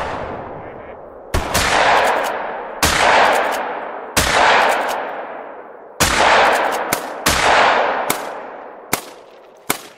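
Shotgun blasts fired at ducks during a hunt in theHunter: Call of the Wild, several loud booming shots spaced a second or two apart, each with a long rolling echo over open terrain, some quick follow-up shots.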